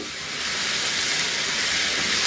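Dried fenugreek leaves (kasuri methi) frying in a pan, a steady close hiss and sizzle that holds even and continuous throughout.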